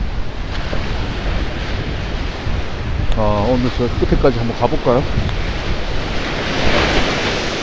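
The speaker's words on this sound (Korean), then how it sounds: "파도가 많이 이제 밀려나갔네요" Ocean waves wash steadily onto a beach under a continuous roar of surf and wind buffeting the microphone, with someone speaking briefly partway through.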